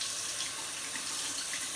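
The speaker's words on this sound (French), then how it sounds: "Je vais un peu l'essorer parce que je veux pas qu'il y ait trop d'eau qui coule" Water runs and splashes steadily and close by as a wet washcloth is wrung out, a continuous hissing trickle with no pauses and no voices.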